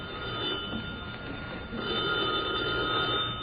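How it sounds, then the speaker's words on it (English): An old-fashioned telephone bell rings continuously in a tavern setting, a bright sustained metallic ringing that swells slightly in the second half, with no voices over it. "Answer the phone, Eddie"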